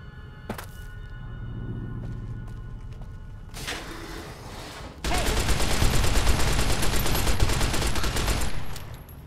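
Shots from a 10mm weapon in Fallout New Vegas: a few scattered cracks at first, then a dense, loud stretch of rapid firing that runs on for several seconds.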